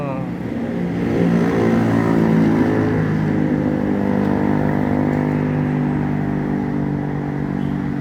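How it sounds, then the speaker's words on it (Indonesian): A loud road engine drones steadily throughout, rising in level early and holding near, like a heavy vehicle moving along a Sumatran highway near Palembang; it is likely a red cargo truck passing on the road. "Truk merah ini apa ya? Bawa barang."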